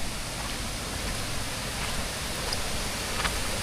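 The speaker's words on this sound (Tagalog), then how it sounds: "Yan guys, silipin natin yung Kubli Falls." Strong flow at Kubli Falls, a rain-swollen waterfall at a farm camp in Dolores, Quezon, as a steady broadband rush of falling water that holds at an even level throughout, with no voices.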